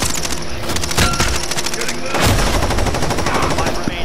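Rifle fire in the battle-royale shooter Call of Duty Warzone, season 5: a loud, sharp shot amid a dense, rattling stream of close gunfire that runs throughout, with voices faintly underneath.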